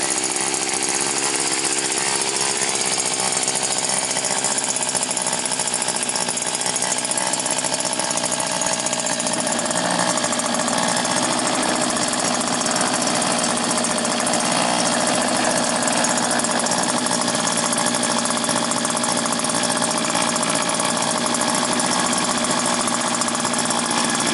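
A 1934 Ford Coupe engine runs steadily on a test run after a short warm-up, a loud continuous rumble and rattle with no pauses and no talking.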